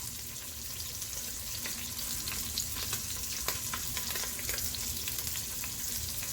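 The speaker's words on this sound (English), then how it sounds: "We're just trying to get a little sear on it." Meat sears hard in a pan for jambalaya, a steady close-up sizzle with crackling spits and occasional stirring, carrying on evenly with no talking.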